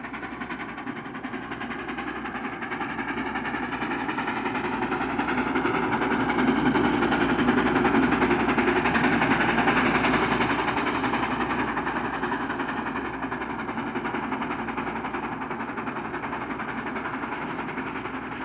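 A K4 Pacific steam locomotive train passing, a steady loud rumble and rolling rail noise that swells in the middle and eases off, with no voices.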